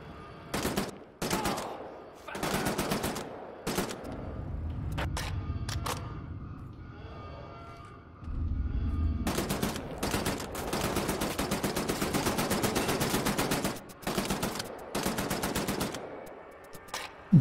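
Automatic weapon fire in the Wolfenstein: The New Order shooter, loud rapid bursts of gunshots in long strings separated by short pauses, with low rumbling impacts in between.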